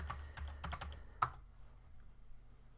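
Keys clatter on a computer keyboard as a WordPress login is typed, a quick burst of close, quiet clicks that stops after a second and leaves a faint room hush.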